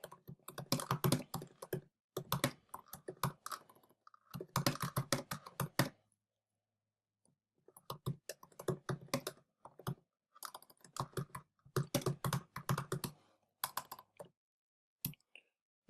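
A computer keyboard being typed on at close range: several fast, steady bursts of loud key clicks separated by short pauses, with no talking.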